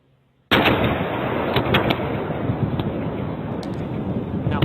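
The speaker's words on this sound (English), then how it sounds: "that is the sound of part of the plane exploding before it went down" After a brief quiet moment, part of a military jet explodes in midair before it crashes: a sudden loud blast erupts into a sustained, rumbling roar with crackling pops, heard from a distance.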